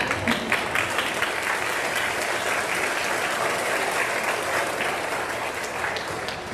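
Dense, steady applause from an audience at the 2025 Oktaha school senior graduation ceremony, filling the whole stretch at an even, loud level with no voices standing out.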